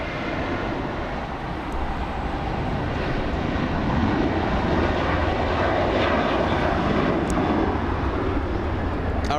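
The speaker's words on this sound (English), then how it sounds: "There goes a Delta 737 racing down the runway." A Delta Boeing 737 takes off from LAX, its engines a loud, steady roar that builds and holds throughout at close range, with no clear talking.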